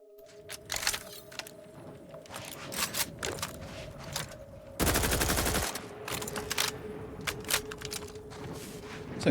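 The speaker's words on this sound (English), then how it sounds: "Ooh, compact assault rifle." Compact assault rifle fire in the video game The Outer Worlds: a dense automatic burst of about a second mid-clip, with single sharp cracks and mechanical clicks before and after over a steady game hum.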